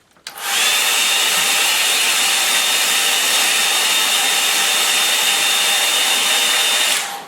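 A hair dryer drying a watercolour painting switches on and runs as a loud, steady high-pitched whir for about six and a half seconds, close up, before cutting off.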